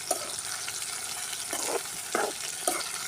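Small onions (shallots) sautéing in a pan for a drumstick tamarind curry, a steady close sizzle broken by a few sharper bursts of stirring, with no voices.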